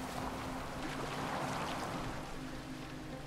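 Boat gliding over water in Assassin's Creed Valhalla, a steady wash of water and hull noise with a low hum running evenly throughout, no talking.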